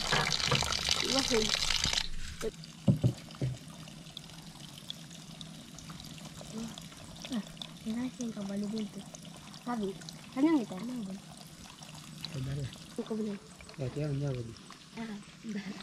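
Spring water flowing out from under the ground on a mountain is collected for drinking, first a brief loud gush of pouring, then softer trickling and filling beneath people talking throughout.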